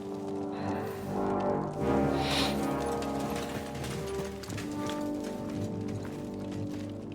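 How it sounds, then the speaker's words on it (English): Horse hooves clip-clop at a steady trotting rhythm in the medieval game Kingdom Come: Deliverance II, fairly close and loud, layered over sustained orchestral music with no talking. "Bring the horses!"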